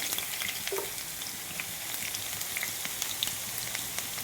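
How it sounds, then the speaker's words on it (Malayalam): Onions sizzle in hot oil in a pan, a constant close crackle with frequent small pops and spits. "സവോള വറുത്തെടുക്കാം അപ്പോൾ ഒരു പാനിലേക്ക് അല്പം എണ്ണ ഒഴിച്ചു കൊടുത്തിട്ടുണ്ട്"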